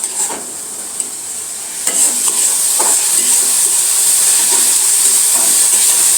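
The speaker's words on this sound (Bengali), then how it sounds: "এবার পেঁয়াজ রসুন দুইটি একসাথে আরেকটু ভেজে নিব।" Onion and garlic paste frying together in a pan gives a loud, continuous sizzling hiss, broken by a few scraping stirs of a spoon near the start.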